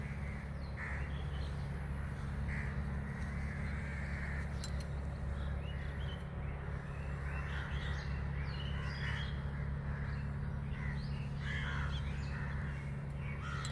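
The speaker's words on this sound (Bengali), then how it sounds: "শালিক পাখি" Myna birds call repeatedly in an open grassy spot where small birds feed on grass seeds in the afternoon, their harsh chattering notes moderately distant over a steady low background hum.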